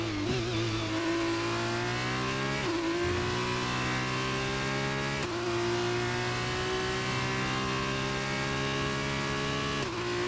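F1 race car engine at full acceleration in the F1 23 video game, a loud sustained high-pitched scream climbing through gears with brief dips at each upshift, continuous and close.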